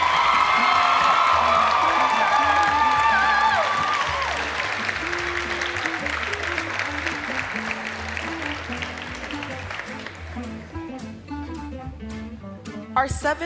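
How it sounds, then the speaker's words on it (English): Audience applause and cheering at a university apparel design fashion show, loud clapping with whoops at first that thins and fades over several seconds into scattered claps and crowd murmur. "Let's have a final round of applause for that fashion history class."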